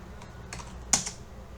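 A few light computer keyboard keystrokes click nearby, ending in one sharper tap, quiet and brief.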